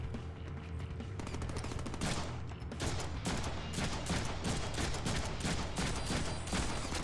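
Steady automatic gunfire in the Deadpool video game, a continuous rattle of rapid shots with brief pauses, loud and close with no talk.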